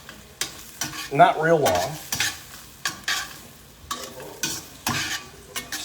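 Mushrooms sizzling in a pan for steak Diane as a spoon stirs them, soft frying hiss broken by repeated scraping strokes, close by, with a brief spoken phrase over the cooking.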